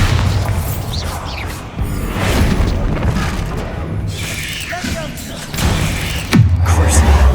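A Bombarda blasting spell goes off in the Hogwarts Legacy video game, a loud booming explosion that dominates the clip amid other game effects, followed by a deep thud near the end.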